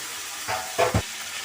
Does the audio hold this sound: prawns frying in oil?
yes